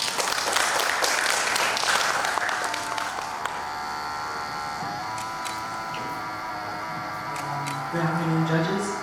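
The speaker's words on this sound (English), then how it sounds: "Please give him a warm round of applause." Applause from an audience at a public speaking competition in Thailand, greeting a student called to the stage; broad, steady clapping runs throughout with a tonal hum layered over it and a brief sound rising near the end.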